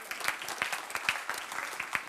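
An audience at a European raw materials conference applauds, a dense wash of many hands clapping steadily at moderate volume for a couple of seconds, with no speech over it.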